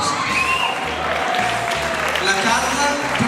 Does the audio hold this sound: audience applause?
yes